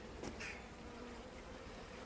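Bees buzzing steadily around an open brown hive during a quick spring inspection, a continuous close insect drone with no talking.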